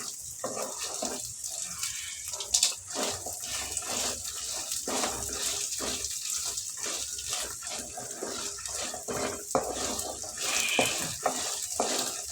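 Dried herbs such as thoothuvalai and mudakathan leaves stirred and roasted in a pan, giving a steady dry sizzle with scraping strokes of the spoon throughout, close and moderately loud, with no talking.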